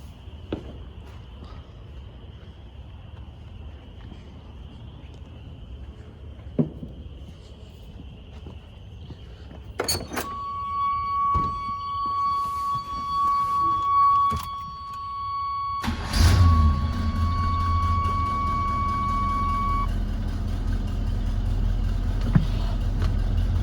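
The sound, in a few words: 1985 Chevrolet C-20 truck engine cranking and starting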